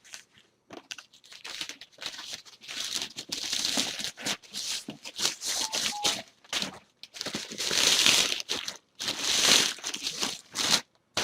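An item slid into a self-adhesive plastic postage bag while packing an eBay sale, giving close, bursty crinkling and crumpling in irregular clusters with short pauses between them.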